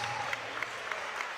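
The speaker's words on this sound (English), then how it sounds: "can we please have a big round of applause for both of our" An audience at a boxing event applauds both fighters after the bout, steady crowd clapping with a few sharper claps, heard at a moderate distance.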